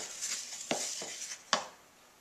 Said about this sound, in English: we're going to start mixing it like this